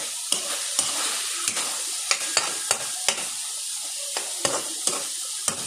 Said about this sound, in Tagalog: So, gisa na natin mga kaguro yung sayote.